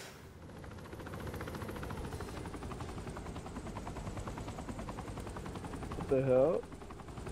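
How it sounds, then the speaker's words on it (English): Steady whirring rotor noise from a helicopter in the video game Saints Row 3 fills the whole stretch at moderate level, with gunfire-like crackle mixed in and a brief spoken exclamation near the end. "What the helicopter doing over here?"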